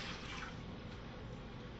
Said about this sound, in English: the 3-to-1 ratio of water and vinegar goes in this pot